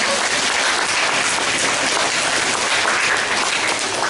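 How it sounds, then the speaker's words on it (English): Students and audience at a school speech event for fourth and fifth graders clap in a steady, dense wash of applause, heard without talking throughout. "Give yourselves a round of applause."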